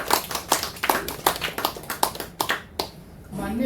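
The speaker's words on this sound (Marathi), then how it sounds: "या सर्वांचं आपण टाळ्या वाजवून त्यांचं स्वागत करूया." A small group claps to welcome guests at a meeting, with sparse, slightly uneven claps that fade and stop after about three seconds.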